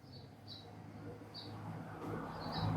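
Small birds chirp outdoors in short, bright bursts scattered across a few seconds, faint and somewhat distant over a low background rumble that may include passing traffic.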